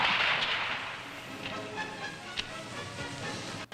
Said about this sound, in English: Next to the British Army's old standby, the 303 Lee Enfield with 27 shots.